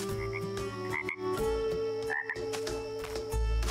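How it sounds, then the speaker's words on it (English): Toads croak repeatedly in the cozy adventure video game Pine Hearts, a chorus of short croaks layered over steady background game tones with no talking. "Oh my god, there's like a million toads."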